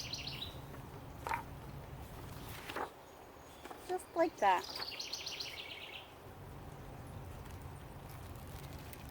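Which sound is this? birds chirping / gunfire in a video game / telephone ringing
birds chirping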